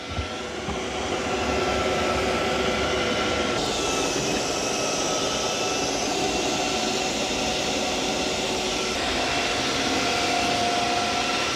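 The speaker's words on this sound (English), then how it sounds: "we're going to see how the Eufy S1 cleans this muddy paw prints." A Eufy S1 robot vacuum and mop combo mops muddy paw prints from the floor, giving a steady, continuous whirring drone that holds at an even loudness throughout, with no talking.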